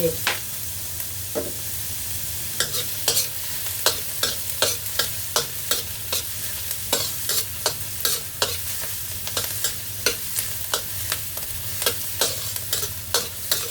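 Kimchi fried rice sizzles steadily in an oiled pan while a spatula scrapes and taps in a regular rhythm throughout, close and continuous, with no talking.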